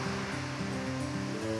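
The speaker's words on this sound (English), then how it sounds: "I love hearing the sound of the rushing water." Steady rushing water of a stream beside an urban bike trail in a downtown South Carolina park, a constant close roar with no voices over it.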